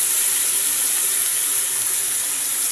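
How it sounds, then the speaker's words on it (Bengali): Water pours into a pan of spiced vegetables and shrimp with turmeric and ginger paste, a loud, steady, bright hiss and rush that runs unbroken from start to finish. "এর মধ্যে জল দিয়ে দিয়েছি"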